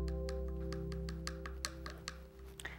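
Hard cured epoxy on a mosaic palette of china and tile pieces, tapped in a series of sharp, clicky knocks, close and fairly loud over a steady low hum.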